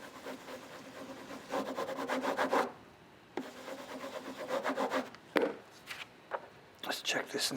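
Paper rubbed firmly over a carved woodblock to emboss a print, giving rhythmic, close scraping and rubbing strokes in bursts with brief pauses between them.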